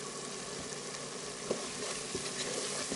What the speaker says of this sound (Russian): пусть теперь наши овощи обжариваются